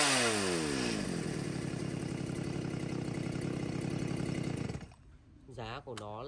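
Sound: Stihl 170C chainsaw engine running

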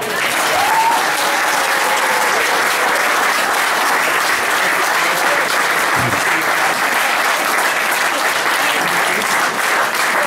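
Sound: audience applause

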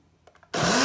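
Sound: blender blending herbs, garlic and green onion

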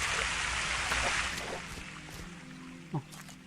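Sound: waterfall in video game Dead Bits

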